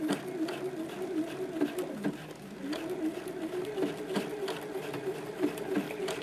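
Sewing machine stitching a blind hem on a folded fabric edge, a continuous close mechanical whirr with rapid rhythmic needle ticks and small speed changes throughout.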